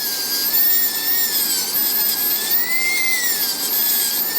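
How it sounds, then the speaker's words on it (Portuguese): A high-speed dental drill with a 1.2 mm bur grinding the mesial wall of a tooth for a metal-free preparation: a piercing, steady whine whose pitch wavers slightly as the bur presses and eases, with no talk. "e agora eu vou passar minha broca na parede mesial, dando a primeira inclinação"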